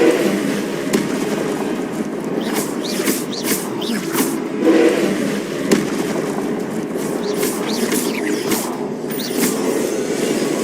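Spell effects from the Hogwarts Legacy video game during combat, a dense run of crackling bursts, whooshes and sharp impacts over a continuous busy backdrop, close and fairly loud.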